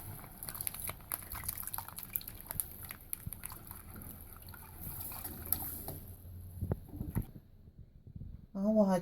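Water is poured into a pan of milk-based sauce for macaroni bechamel on a home stovetop, a soft steady trickle that stays fairly quiet and close, ending with a brief voice.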